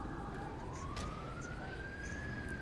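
A siren from an ambulance in the video game GTA 5 holds one slowly rising tone across a dense, steady wash of traffic and engine noise, sounding somewhat distant.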